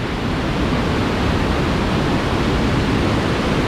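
Tat Sae waterfall at Xiang Ngeun in Luang Prabang, Laos, roars as a steady, dense rush of falling water that stays loud and even throughout, with no voices.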